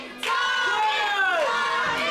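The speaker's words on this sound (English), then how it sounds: "Crowd trying to inspire him." A wrestling audience cheers and shouts in a sustained, dense roar that swells suddenly and holds loud for two seconds, with no individual talk standing out.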